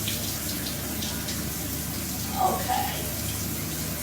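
Shower water runs in a steady, close hiss that fills the whole stretch, with a person briefly speaking over it.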